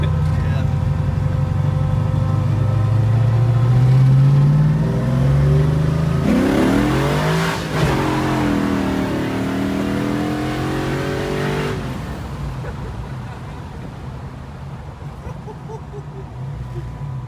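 The Grey Ghost, an untuned car without a chip, revs hard with its engine ringing, climbing in pitch, holding a loud wavering scream, then dropping away to idle, with people talking over it.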